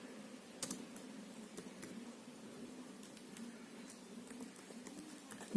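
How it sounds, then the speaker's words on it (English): Someone types on a Dell G7 laptop keyboard, producing soft, close, quick key taps in an irregular run over a low steady hum, with no voice. "you're going to type Dell G7 driver and then click on enter"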